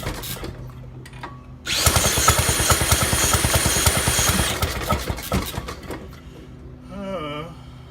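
A 1916 Maytag half-horsepower engine fires up after a quiet start and runs with a steady, rapid chugging beat for several seconds before dropping off.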